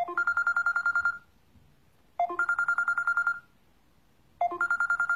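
A telephone rings unanswered inside a house: three bursts of rapid trilling bell tones, each about a second long and separated by pauses, clear and close, with no talk.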